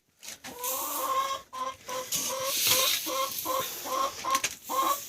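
Hens cluck in a steady run of short, close calls, one after another and loud, with no one talking.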